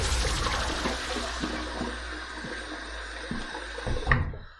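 Hot water poured from a Cold Spices shave soap puck splashes into a sink with a steady gurgling rush and a few small knocks, then cuts off sharply near the end. No voices.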